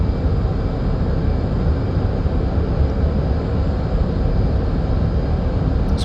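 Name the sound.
F/A-18 Hornet jet engine in DCS video game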